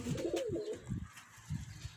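Pigeons coo repeatedly at close range in low, rolling calls that rise and fall in a steady rhythm, with no talking.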